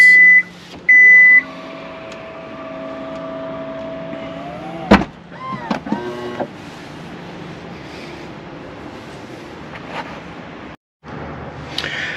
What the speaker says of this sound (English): this SUV has a huge moonroof there. Press the button to close.